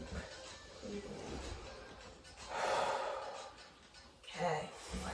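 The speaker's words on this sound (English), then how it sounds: "Breathing deep." Deep breaths taken during a yoga rest while lounging over an exercise ball: two slow, airy inhale-exhale swells, close and fairly soft, over quiet room tone with no talking.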